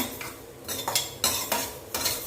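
Seedless dried tamarind pieces are dry-roasted in a pan for a village-style gooseberry pickle, with several crisp scraping strokes of a spoon against the metal at uneven intervals over a low background.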